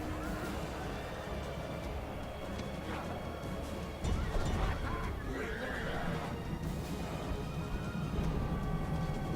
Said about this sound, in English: Oh wait, it's screeching horse.